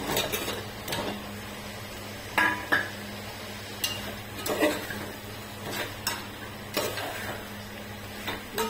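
A spoon scraping and clinking in a pan while stirring eggs into biryani masala with kasuri methi, irregular metallic taps and scrapes spaced a second or so apart over a low steady hum.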